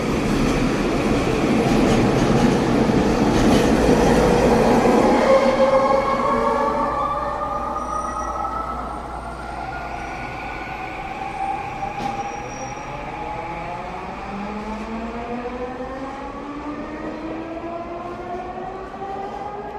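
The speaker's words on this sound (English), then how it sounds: "I got 2 minutes before the SkyTrain comes" A Vancouver SkyTrain passes on its elevated rail line. A loud rumbling approach rises, then the train clatters by with rising and falling tonal whines that slowly fade as it moves off.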